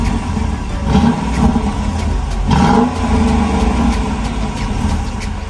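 A 2022 Dodge Durango R/T with a 5.7-liter Hemi V8 rumbles steadily up close, with a couple of brief rises in engine pitch that suggest revving over the continuous low drone.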